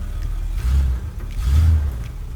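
A vintage Rolls-Royce with a 6.75-litre V8 engine starts up, heard from inside the cabin as a muffled, deep low rumble that swells twice before settling, with no voices.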